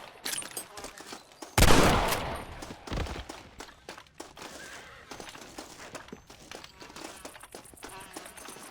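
Gunfire in Red Dead Redemption: one loud, close shot with a ringing tail, a second blast just after, then scattered quieter pops and shuffling footsteps under a brief voice.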